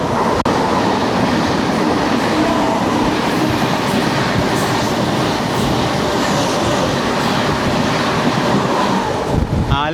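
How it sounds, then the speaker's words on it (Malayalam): An Alappuzha–Kollam MEMU train rushes past loudly and steadily, a continuous roar of wheels and wind buffeting with rhythmic rail clatter throughout. "ആലപ്പുഴ കൊല്ലം മെമു ആയിരുന്നു"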